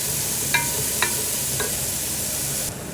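Garlic, onion and celery sizzle steadily as they sauté for a noodle dish, with three light utensil taps against the pan before the hiss drops quieter near the end.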